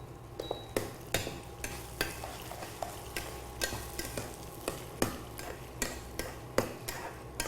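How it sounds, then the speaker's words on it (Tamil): Food sautéed and stirred in a frying pan, a soft sizzle under regular sharp spatula taps and scrapes against the metal, close and rhythmic, no talking. "வதக்கிடுவோம்."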